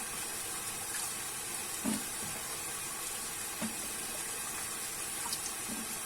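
Tap water runs steadily into a colander of fresh mushrooms being rinsed in a kitchen sink, a faint continuous hiss with a few soft splashes and thumps as the mushrooms are moved.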